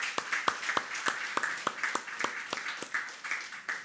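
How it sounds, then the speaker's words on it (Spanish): Scattered claps from a church congregation during a Spanish-language evangelical service, a dozen or so distinct sharp hand claps in uneven rhythm, fairly close and moderate in level, with no talking. "Le damos un aplauso al Señor por eso,"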